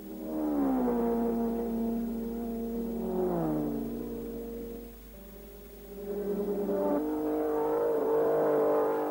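A 1960s Grand Prix racing car such as a Ferrari 156 revs and races, its engine notes rising and falling in repeated sweeping pitch glides, loud and near, briefly dipping before climbing again.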